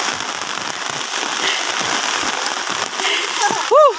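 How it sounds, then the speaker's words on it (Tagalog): Steady rain patters and hisses on surfaces and leaves outdoors in Leyte, a dense continuous wash with a short vocal whoop near the end. "Umuulan dito guys. Halos araw-araw nandito umuulan."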